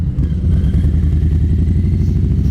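Harley-Davidson 2020 Low Rider S motorcycle riding, a loud, steady low engine rumble with mechanical clatter that holds throughout, close to the rider and with no voices.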